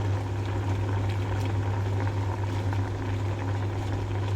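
Vegetables simmering in a coconut milk curry sauce with fish and pechay, giving a steady close bubbling hiss with a low constant hum underneath, no talking.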